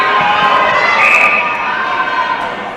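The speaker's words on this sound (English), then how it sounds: "Crowds are really getting up there." Spectators at an indoor netball match in South Africa raise a loud, sustained roar of cheering and shouting that swells around the middle and stays dense throughout, with a commentator's voice running beneath it.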